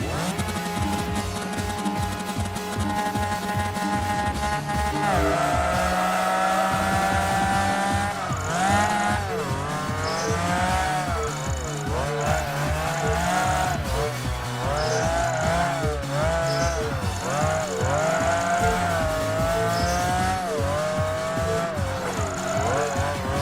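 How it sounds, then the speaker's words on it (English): Race car engine in Project Gotham Racing 3, loud and continuous, with revving pitch sweeps through gear changes and tire squeal layered over a steady game music bed. "engine sound"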